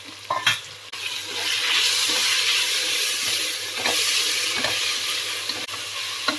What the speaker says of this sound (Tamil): ஒரு கைப்பிடி மல்லித்தலை ஒரு கைப்பிடி புதினா சேர்த்து இந்த ஆயிலே நல்லா ஃப்ரை பண்ணி விட்டுருங்க